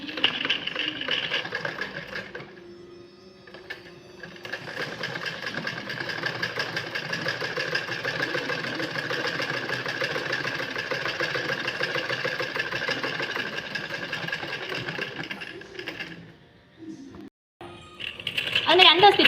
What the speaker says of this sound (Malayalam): നമ്മൾ ആ തയ്ച്ച ഭാഗത്തൂടെ ഒന്നുകൂടി തയ്ച്ച് കൊണ്ടുവരികയാണ്.